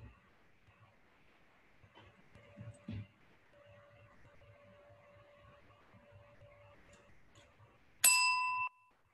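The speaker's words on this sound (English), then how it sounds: "then I will ring the bell." A single bright bell ring closing an online meeting poll, sharp and close, ringing out briefly near the end after a quiet stretch with faint background talk and a soft tone.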